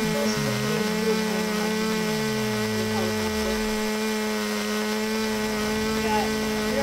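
Rotor and turbine whine of a Tiger helicopter in the RC Desk Pilot flight simulator, a steady tonal hum with a pitch that slides down and then settles, close and continuous.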